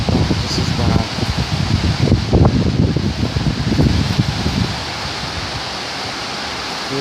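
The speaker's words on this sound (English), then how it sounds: "Look at the power of that wind." Strong wind gusts roar through torrential tropical rain, with gusts up to 55-60 km/h, a loud, dense rushing noise that surges for several seconds, while a voice speaks over it, before the sound settles to a steadier wash.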